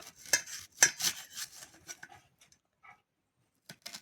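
Knife slicing onions into rings on a board, a series of sharp crisp cuts in uneven rhythm, loud at first and then thinning to sparse, fainter taps with short silences between.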